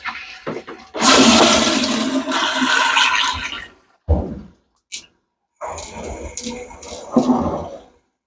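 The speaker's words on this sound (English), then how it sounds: "Now I'm going to flush the toilet and see if it drains." A Flushmate pressure-assisted toilet flushes just after its cartridge was changed: a loud, sharp rushing burst of water lasting a few seconds, then a brief pause, a short click, and a second, quieter gurgling run of draining water.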